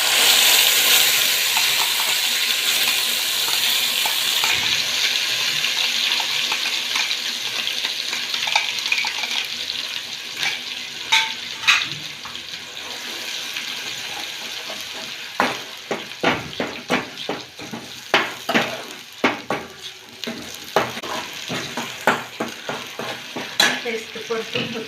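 Onion and tomato paste fries with cumin and mustard seeds in a pan for matar paneer, a loud steady sizzle that settles into repeated close stirring clatters and scrapes, with no talking.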